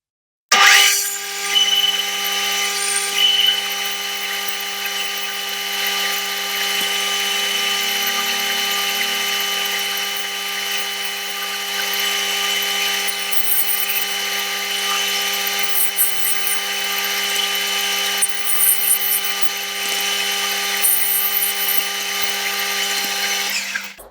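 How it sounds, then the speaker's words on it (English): A metal lathe turns a small snifting valve part, holding a continuous steady machine whine with a constant tonal hum throughout, plus occasional faint scraping ticks from the cut, close and alone without any speech. "Lathe is set. Let's do this."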